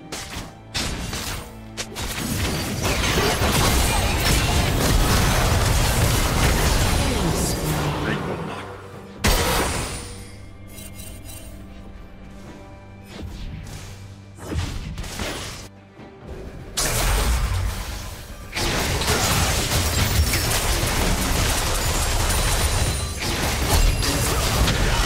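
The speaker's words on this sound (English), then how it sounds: "Red team's turret has been destroyed." Red team's turret being destroyed in a League of Legends top-lane match, with loud crashing explosive impacts and game effects packed densely together, a quieter lull midway, then another dense burst of blasts.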